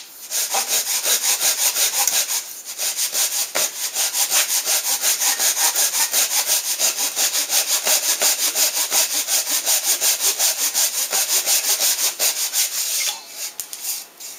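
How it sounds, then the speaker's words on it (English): A hand saw cuts through wood in steady, even back-and-forth strokes, close and loud, with one brief pause near the end. "We can lift up on the saw just a little bit on the back."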